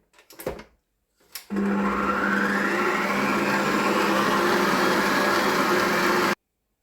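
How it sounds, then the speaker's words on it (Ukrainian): Electric hand mixer whipping eggs with sugar, a couple of short bursts and then a steady whirring motor drone for several seconds before cutting off abruptly. "Беру яйця з цукром і збиваю."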